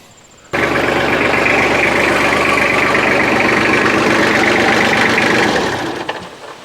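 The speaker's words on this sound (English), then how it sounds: "Been letting the tractor warm up a few minutes, get up to about operating temperature." A farm tractor's engine idles while warming up toward operating temperature, starting abruptly and running as a loud, steady, close rumble with a faint mechanical clatter before easing off near the end.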